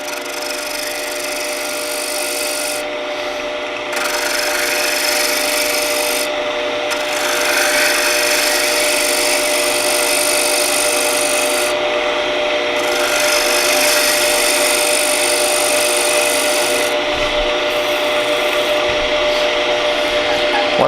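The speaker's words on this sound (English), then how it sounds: "we're just going to true up the bottom face of the blank using the bowl gouge on its side" A bowl gouge held on its side trues the bottom face of a wooden lamp base blank spinning on a lathe, giving a steady, loud scraping rasp with a constant motor hum that runs unbroken throughout.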